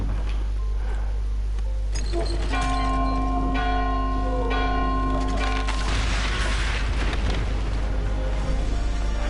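A bell rings out in the World War I video game Soldats Inconnus: Mémoires de la Grande Guerre, its long sustained tones layered over a steady game soundtrack with booming low rumble.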